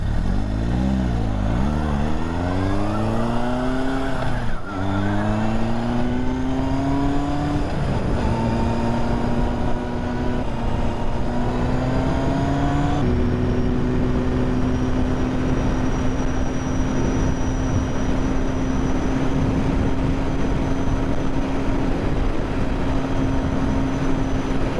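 Honda CB750 K project motorcycle engine while riding, revs climbing and dropping through several gear changes, then settling into a steady loud drone at cruising speed, close and continuous.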